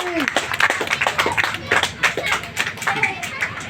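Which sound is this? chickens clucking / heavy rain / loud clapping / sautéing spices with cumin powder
loud clapping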